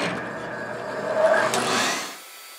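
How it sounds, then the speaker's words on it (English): A shop vacuum switches on beside a scroll saw, its broadband whine rising over about a second and holding steady, close and fairly loud, with no talk. "So I'll turn my power on and then my vac on."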